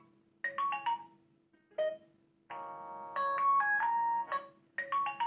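Incoming call ringtone on a vivo V20 smartphone plays alone: a bright, repeating melodic phrase of short electronic tones in several bursts with brief pauses, clear and fairly quiet.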